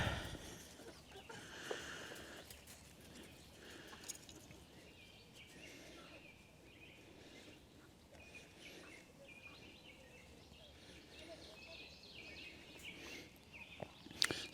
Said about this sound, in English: Chickens are watching me.